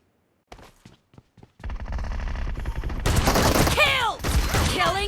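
Rapid bursts of shotgun fire ring out in a BGMI team deathmatch, starting with a few sparse clicks, then dense overlapping blasts with sharp whizzing ricochet sweeps, loud and close.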